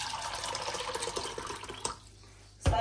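Water is poured into a cooking pot while chickpea rice is being made, a close splashing stream for about two seconds that stops abruptly and is followed by a sharp knock.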